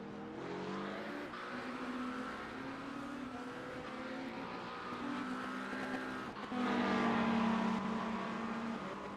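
Race cars in the iRacing sim at Spa roar past in groups, engines revving with harmonic whine that swells louder near the end, steady and close throughout without talk.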